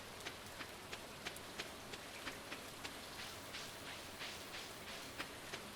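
Steady rain falls in the Stardew Valley farming game, a soft continuous hiss with scattered brief ticks of drops, quiet and alone without talk.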